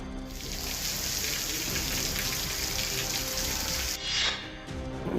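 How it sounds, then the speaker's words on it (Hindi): Heavy monsoon rain pours down in Jharkhand, a dense, steady hiss of drops striking surfaces, loud and continuous with a brief surge near the end and no voices. "झारखंड में झमाझम बारिश हो रही है।"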